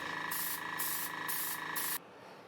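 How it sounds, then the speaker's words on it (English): Close, hissing bursts of a spray gun misting a thinned mix of liquid latex and acrylic paint in a quick pulsing rhythm, then stopping abruptly. "After spraying to get more opacity"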